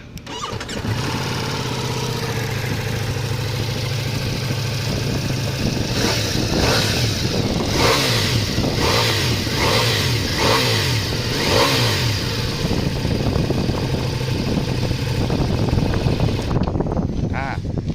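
A 2022 Ducati Multistrada V4S sport motorcycle engine starts and idles with a deep rumble, then revs hard in several loud bursts before settling back.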